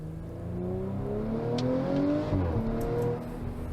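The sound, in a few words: V6 car engine note, recording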